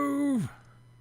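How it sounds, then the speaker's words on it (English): A video game sheep lets out a single short, groaning bleat that sags downward in pitch and fades, leaving a low hum behind. "it's because there's a sheep"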